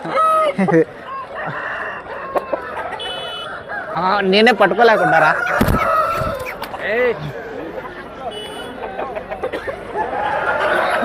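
Roosters crowing and hens clucking at a country chicken market in Piler, loud close crows overlapping with clucks and honk-like calls, while people talk and bargain nearby.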